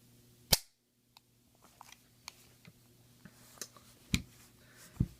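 Pistol shots at a shooting range, a 1911 or a Glock, heard as a sharp crack followed by several fainter scattered pops and clicks, distant and quiet overall.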